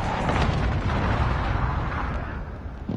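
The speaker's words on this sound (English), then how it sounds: "Allied cluster strike inbound." Loud, continuous rumbling explosions from a cluster strike in a military shooter video game, dense overlapping booms that swell and sustain for several seconds, with a slight dip before a final burst.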